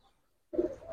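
After a brief silence, a Giribaz flying pigeon coos suddenly and close, a short low warble that continues steadily to the end.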